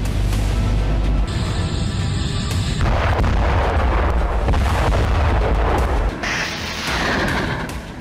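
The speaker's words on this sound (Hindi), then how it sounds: "डोनेस्क में रूसी सेना ने MLRS से इस तरह विध्वंसक प्रहार किया।" A GRAD MLRS rocket artillery strike in Donetsk delivers continuous loud, deep booming and rumbling blasts that overlap into a dense roar, with a sharper crackling burst near the end.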